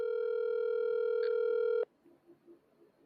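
A telephone ringback tone plays while a call is placed: a loud, steady electronic tone that holds for about two seconds and then cuts off abruptly, leaving faint room noise.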